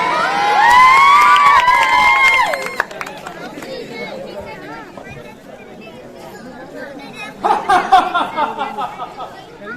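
A Ramlila crowd erupts in loud cheering, shouts and children's cries that fade into murmuring chatter, then a second burst of clapping and cheering rises near the end.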